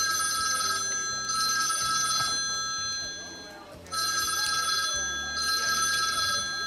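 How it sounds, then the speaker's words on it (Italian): A telephone in an Italian office rings twice in loud electronic bursts with a pause between them, while a person talks quietly underneath. "Scusi, scusi tanto, una telefonata urgente."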